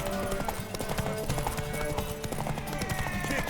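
Horse hooves clop steadily in The Witcher 3 during a race to a tower, with whinnies breaking through a busy mix of game music and effects; no clear talk over the galloping.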